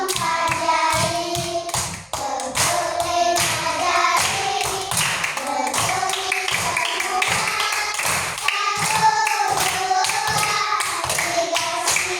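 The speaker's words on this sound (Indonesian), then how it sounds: "mari kita bernyanyi tepuk satu jari" A classroom of children sing a clapping song together, with steady rhythmic hand claps and taps running under the sung melody throughout, close and lively.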